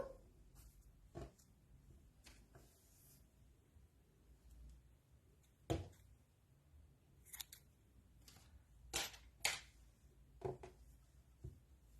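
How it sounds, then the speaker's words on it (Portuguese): Scissors snip crochet yarn in a few sharp, quiet clicks scattered across a hushed scene, close and faint with small handling noises between them. "Aí, vai cortar o fio."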